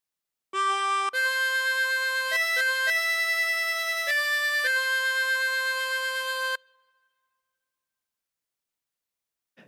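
A chromatic harmonica plays a short phrase of "Amazing Grace", clear sustained reedy notes stepping through the melody close up, then stopping into silence.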